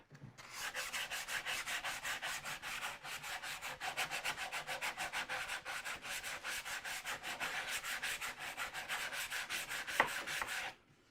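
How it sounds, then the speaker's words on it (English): Hand sanding of the wooden front legs and rail of a Lutyens bench with sandpaper: steady, rapid back-and-forth scratchy strokes, close and continuous for about ten seconds, ending with a brief knock. "now a little bit of sandpaper"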